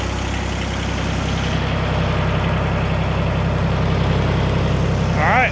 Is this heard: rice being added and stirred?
no